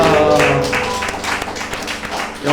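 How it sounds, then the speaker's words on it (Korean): A church congregation applauds during a worship service, a steady wash of clapping that holds at an even level over sustained music playing underneath. "하나님께 영광의 박수 올려드리겠습니다."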